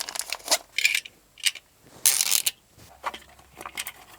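Metal toilet bolts clink and rattle in short, sharp bursts as they are handled during a toilet install on a concrete slab, close and fairly loud, several separate jangles with quiet gaps between, no talking.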